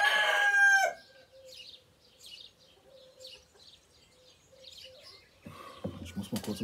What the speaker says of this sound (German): Oh, der Nachbarhahn.